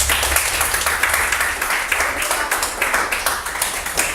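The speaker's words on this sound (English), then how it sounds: "Give me a round of applause." A classroom of students at a school claps and applauds together in a short burst lasting around four seconds, close and fairly loud.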